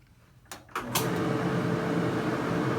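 A clothes dryer starts up with a few sharp clicks and thumps, then settles into a steady, loud whirring drone that runs on evenly to the end.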